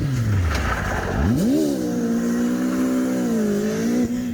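Mazda MX-5 on a car park autotest course, the engine revving up hard as the car accelerates, rising pitch then a sustained loud drone, close by and alone.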